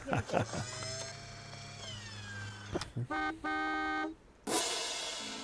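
Several short horn toots and harmonic honks from a car, mixed with brief talk-like sounds and a loud burst near the end.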